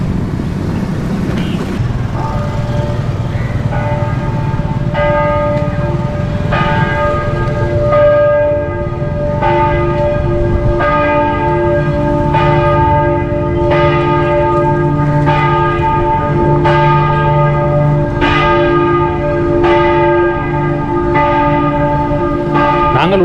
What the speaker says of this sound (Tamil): நாங்கள் உள்ள வரவும் கோயில் மணி அடிக்குது.